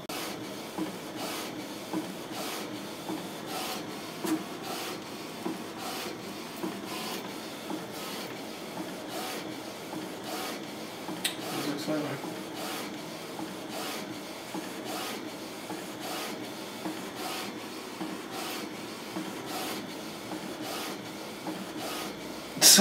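A printer runs a design onto transparent paper with a steady, quiet mechanical whir, marked by regular clicking pulses that repeat evenly throughout.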